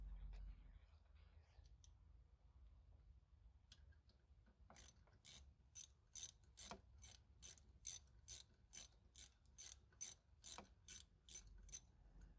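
A ratchet snugging down the new brake master cylinder retainer on a Dodge Ram 1500, a close, steady run of about sixteen crisp clicks after some quiet shop background.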